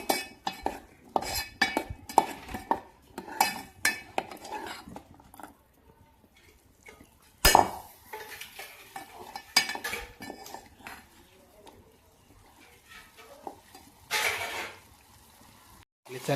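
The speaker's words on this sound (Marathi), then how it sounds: "भाजी आपण हलवून घेऊ ना मस्त." Chickpea curry stirred in a pot with a metal spoon, giving irregular scraping clinks and taps close by, busier at first, then sparser with quiet gaps.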